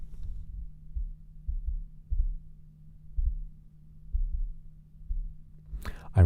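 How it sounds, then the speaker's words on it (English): Heartbeat carried through an arm resting on a microphone pop filter: soft, low double thumps in a slow steady rhythm over a faint hum, ending with a brief louder bump. "I rested my arm on my mic pop filter. That's my heartbeat."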